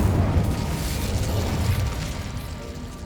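A fire spell cast in the Hogwarts Legacy video game, a loud rushing burst with a deep rumbling roar that holds steady and slowly fades, no voices over it.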